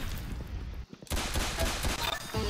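Rapid gunfire from a Roblox Arsenal match rattles in dense bursts, briefly cutting out before resuming as loud continuous volleys with no talking over them.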